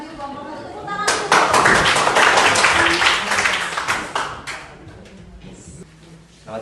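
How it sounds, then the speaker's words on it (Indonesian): A classroom of teachers and students claps for a student group as it comes forward. The clapping is dense and steady for about three seconds, then thins out. Voices talk around it. "Yang maju kelompok 1, tepuk tangan dulu."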